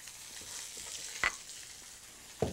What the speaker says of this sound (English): I can still hear it sizzling and cracking a lot